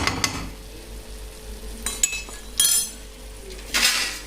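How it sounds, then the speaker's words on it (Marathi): A lid set down over a pan of fried garlic, a few clanks and metallic knocks with brief scraping and a soft sizzle in between. "आता आपण ह्याला 5 मिनिटासाठी झाकून ठेवूया"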